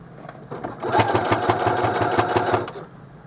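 A sewing machine runs in a steady rapid burst, stitching over the first row of stitches on a zippered pouch made from a placemat, loud and close for about two seconds before slowing to a stop.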